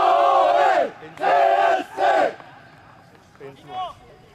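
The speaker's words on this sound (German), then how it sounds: "So, fertig machen zum Jubeln." A crowd at a football match between TSV Garsebach 1990 and Dresdner SC roars in three loud, sustained bursts of cheering, then quieter scattered shouts follow.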